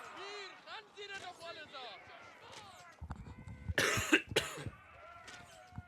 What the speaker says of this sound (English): I wish this cough would go away